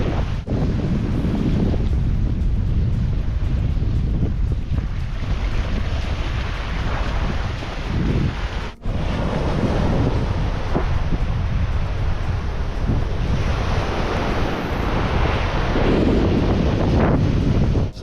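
Wind roars steadily across a microphone at a seaside camp in Lincoln National Park, a loud, dense rush that barely lets up, with no talking.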